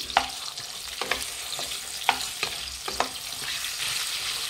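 Tomatoes and garlic fry in oil over a high flame for tomato chutney, a steady hissing sizzle broken by several sharp spoon scrapes against the pan at irregular intervals, close and clear without speech.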